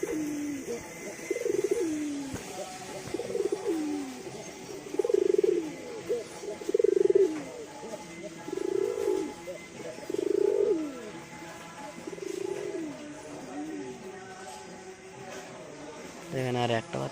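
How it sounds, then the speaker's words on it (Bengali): Pigeons perched on a house roof coo in a series of throaty, rolling calls that repeat every second or two. Each call is fairly near and clear, and quiet background noise fills the gaps between calls. "এখন আমার সব পায়রা বাড়া চালে আছে"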